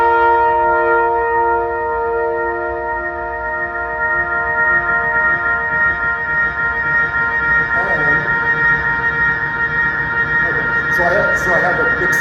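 Runaway feedback from an analog-voiced delay pedal on a wind instrument: a dense, sustained siren-like drone of stacked tones that swells and warbles for about twelve seconds, with faint brief chirps near the end.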